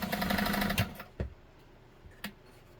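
A Nesco de Luxe push-button zigzag sewing machine runs a steady whirring stitch, then stops, leaving a few soft clicks and knocks as it switches between reverse and forward.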